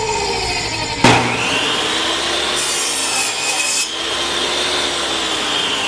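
A power saw spins up and cuts a wood border strip, a steady loud whining buzz with a harsher grinding stretch mid-cut, then continuing to run, with no one talking.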